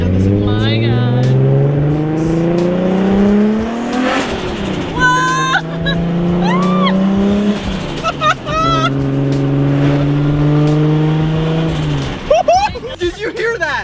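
Nissan Skyline GT-R engine pulling hard on a main road, climbing through several gears with rising revs and shifts, loud and close from inside the car, with excited voices talking over it.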